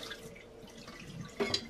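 Tap water runs into a bowl of rice being rinsed, a faint, steady close trickle with a brief splashier swirl near the end.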